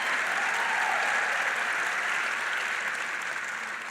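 A large audience at a political speech claps in a dense, continuous wash of applause that holds steady and then eases slightly toward the end.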